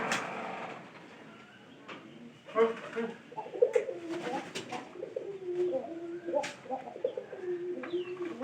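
Pigeons coo softly in a new pigeon loft, a few low rolling calls that come and go near the listener over a quiet background with faint rustling.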